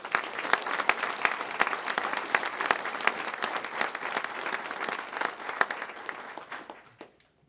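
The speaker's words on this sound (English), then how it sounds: "Please give our team at WEP, Shannon Hardy, and everyone a big round of applause." Audience at a county address gives a sustained round of clapping, dense and fairly loud, holding steady for several seconds before thinning out and fading at the end.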